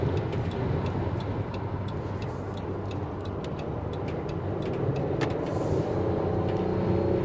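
Inside a 2015 Dodge Caravan SE wheelchair mobility van cruising at highway speed, a steady low road and engine rumble fills the cabin, with light rhythmic ticking clicks above it.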